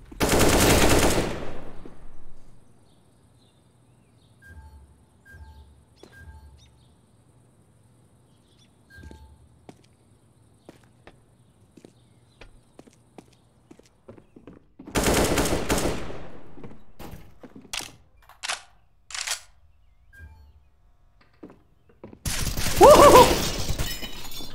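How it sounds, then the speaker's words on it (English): A flashbang thrown in Counter-Strike: Global Offensive, heard as a sharp loud burst at the start, a later loud blast near the middle, and a final bright ringing crash, with faint clicks and footsteps between. "Throwing a flashbang."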